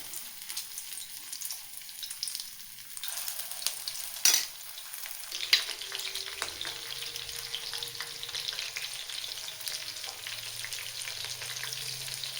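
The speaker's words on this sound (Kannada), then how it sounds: "ಈಗ ಒಂದೊಂದಾಗಿ ಪೀಸ್ ಹಾಕ್ಬಿಟ್ಟು ನಾನು ಕರಿಯೋಣ." Marinated chicken kebab pieces deep frying in hot oil for street-style kebab, a steady close bubbling sizzle throughout with a couple of sharp clinks and stirring scrapes, no voices.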